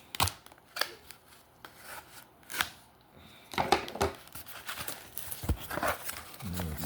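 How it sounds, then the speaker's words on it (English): Someone cuts open a bag of vintage toys and trading cards, giving a series of short, sharp snips and crinkly plastic rustles, close and fairly quiet, with occasional murmured speech. "Cut this open."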